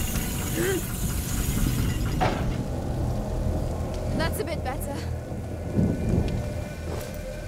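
Thunderstorm with rain in a video game, steady heavy rain hissing throughout with a rumble of thunder and a few mechanical clanks, loud and close.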